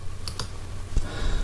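A few sharp computer mouse clicks, two close together early and one later, fairly quiet against a faint background hum.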